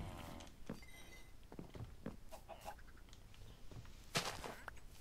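A chicken clucks in a Minecraft-style block-building game, with short scattered clucks and small game sounds over a quiet, faint background.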